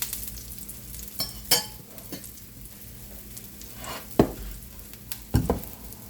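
Paneer chilla sizzles steadily in a spoonful of oil on a pan, a continuous crackling hiss broken by a few sharp clinks and scrapes from stirring or turning.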